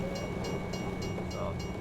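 A train rolling past a truck near Flagstaff in American Truck Simulator, a steady rumble with evenly spaced clicking wheel beats and a continuous engine drone underneath.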